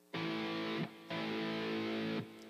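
Guitar playing two notes picked outwards rather than with a downstroke, two separate sustained notes about a second apart, quiet and close with no talking.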